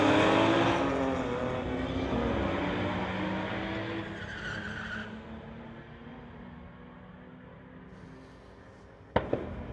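Two Volkswagens, a 1992 VW and an 1984 VW Rabbit, launch side by side at a street-legal drag strip, engines roaring loud and fading as they pull away, followed by a sharp bang near the end.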